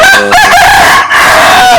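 A rooster crows loudly and close by, a long drawn-out call with chickens clucking around it.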